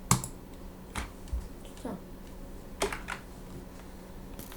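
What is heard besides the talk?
typing on a computer keyboard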